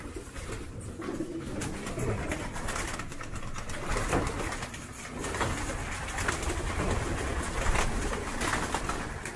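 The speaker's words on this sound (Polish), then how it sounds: "pokaż mi jeszcze inne gołębie tutaj" Racing pigeons in a breeding loft coo repeatedly nearby, soft throaty calls overlapping against a rustling background.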